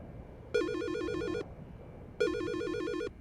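A phone rings in Silent Hill: Shattered Memories with two loud, trilling electronic bursts a little under a second each, separated by a short pause, clear and alone with no voices.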